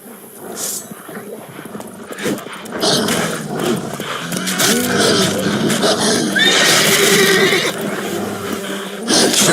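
Roach, the horse in The Witcher 3, whinnies and snorts over game ambience and music, with rumbling hoofbeats and movement sounds growing louder through the middle and end.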